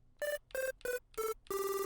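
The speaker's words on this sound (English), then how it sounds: "Then we have the phone call preset." A quirky phone-call synth preset from a Serum sound bank, used for Zayskillz-style beats in FL Studio, plays five bright, buzzy ring-like bursts, the last one held longest, each with a clear tonal pitch and no voices.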